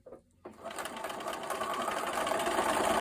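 After a brief pause, a sewing machine starts stitching quilt fabric edges, settling into a steady, fast mechanical whir that runs loud and close to the end.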